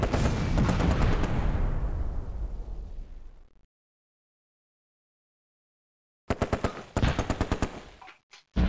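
Bursts of tank machine-gun fire from a Churchill in the Close Combat war game, one long rattling volley that trails off, a pause of silence, then several short, sharp bursts close and loud.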